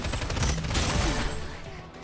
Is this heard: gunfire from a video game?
yes